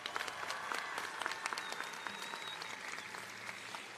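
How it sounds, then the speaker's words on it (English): Audience applause for staff at a high school graduation ceremony, a broad, steady patter of many hands clapping from a large crowd, somewhat distant and sustained throughout, with a faint whistle rising briefly. "Please, can we give a round of applause to all of the staff here today to support all of the graduates."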